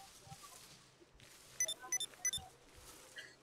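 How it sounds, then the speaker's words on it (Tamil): A short run of bright electronic beeps from a phone message notification in GTA 5 chirps several times in quick succession over a quiet background. "மெசேஜ் வந்திருக்கு"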